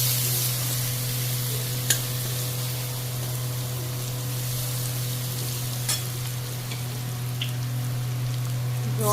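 Spice paste of garlic, Kashmiri chilli powder and turmeric fries in a pan while being stirred, a continuous close crackling sizzle with a few sharp clicks of the utensil and a low steady hum beneath.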